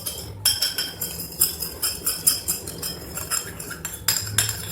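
A utensil stirs slime and powder in a bowl, giving quick repeated scraping clinks in a brisk uneven rhythm, close and moderately loud.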